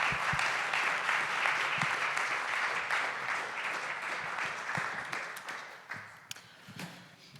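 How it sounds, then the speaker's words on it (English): At a Lithuanian foreign policy conference, the audience applauds the speakers with sustained, moderately distant clapping that slowly tapers, leaving a few sharp individual claps at the end. "Please join me in a big, big round of applause for our speakers."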